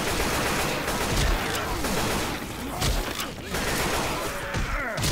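Rapid gunfire fills a zombie shooter, Left 4 Dead 2, in the Hard Rain campaign, with dense bursts of shots and impacts running almost continuously and a few short gaps.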